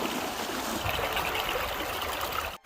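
Steady, close rushing of warm, almost hot thermal spring water at Pamukkale, Turkey, a continuous bright trickle and gurgle with no voices, cutting off abruptly at the end.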